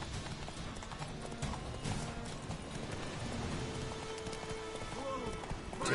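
Roach, a horse in the video game Witcher 3, gallops in a rapid, rhythmic clip-clop of hooves that holds steady and close throughout, with faint game ambience and voice underneath.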